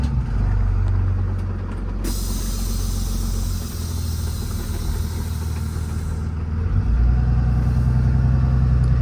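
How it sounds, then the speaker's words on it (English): Air-ride driver's seat inflating inside a 2021 Kenworth T270 under-CDL mechanics truck, a steady loud hiss of air running over the low rumble of the idling engine for several seconds. "Air up my seat a little bit so I'm not sitting on the floor here"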